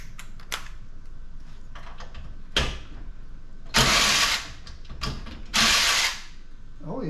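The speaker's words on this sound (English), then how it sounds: "Got this bolt right here. Let's see if we can get this off." Loosening a stuck bolt on an old brass bed frame with a hand tool: a few bursts of harsh metallic ratcheting and grinding, close and fairly loud, separated by quieter clicks and handling noise.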